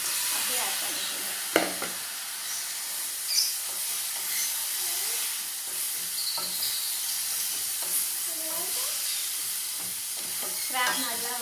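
Crab frying with masala in a pan gives a continuous sizzle and hiss, broken by the clatter and scrape of stirring utensils and occasional sharp knocks against the pan.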